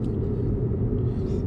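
A 2017 Audi R8 V10 climbs a mountain road on Mount Charleston, its engine producing a steady, dense low rumble with no voices over it.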